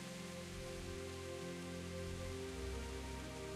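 Steady rainfall in the medieval video game Kingdom Come: Deliverance, a constant even hiss of rain on the ground with low tonal ambience beneath, continuous and moderately quiet throughout with no talking.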